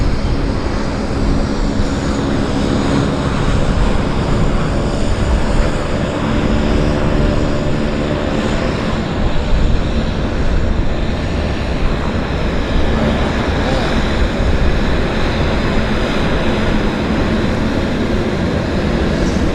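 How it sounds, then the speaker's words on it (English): An Air Canada Jazz CRJ regional jet rolls for takeoff, a broad steady roar of jet engines sustained for many seconds at moderate distance, with no voices. "Got a Air Canada Jazz CRJ, actually right on the roll here, right on the roll."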